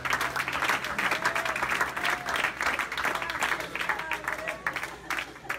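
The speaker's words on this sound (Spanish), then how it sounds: "Dele fuerte el aplauso al Señor grande." A church congregation at an evangelistic service claps and applauds in praise, the dense clapping pulsing in waves with voices rising over it, fairly quiet overall.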